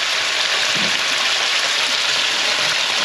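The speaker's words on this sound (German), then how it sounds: "jetzt brutzelt der Gulasch schön" Beef goulash fries loudly in a pan with vegetables and onions, making a dense, steady sizzle that stays close and even throughout, with no voices.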